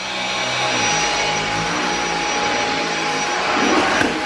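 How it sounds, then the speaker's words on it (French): A cordless vacuum cleaner runs with its suction locked on during household cleaning, giving a loud, steady whining roar that holds for several seconds with a slight swell near the end and no speech. "vous appuyez comme si vous alliez aspirer quoi"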